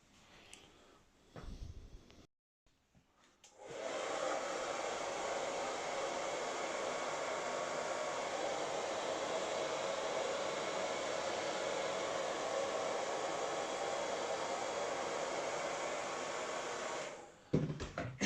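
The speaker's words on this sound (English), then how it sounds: "Let's see what happens if I put the dryer on it." After a few soft bumps and clicks, a hair dryer switches on and blows over covering material on an RC model with a loud, steady whoosh for over ten seconds before cutting off.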